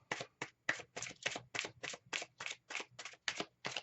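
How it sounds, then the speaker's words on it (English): A deck of tarot cards is riffled and shuffled repeatedly in a steady rhythm, about a dozen crisp papery bursts evenly spaced, close up and quiet, with no talking. "All right, cards are shuffled."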